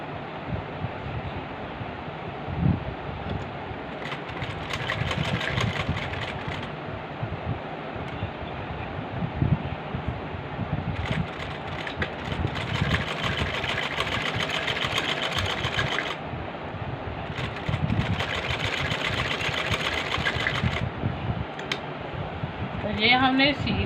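A sewing machine stitches a simple kurti, running steadily for long stretches with brief pauses and changes in speed, close and fairly loud.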